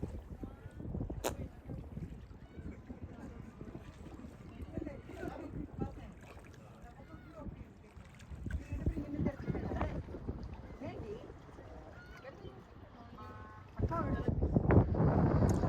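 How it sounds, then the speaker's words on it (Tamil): Strong wind buffeting the microphone in rumbling gusts at Port Credit on the waterfront, with water sloshing nearby and occasional indistinct voices; the gusts surge louder near the end. "காற்று பயங்கரமாக வீசுறதுங்க"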